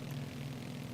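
A Twin Beech propeller aircraft in Microsoft Flight Simulator 2024 holds a steady, droning engine hum with a low throbbing pulse, continuous and even throughout without talk.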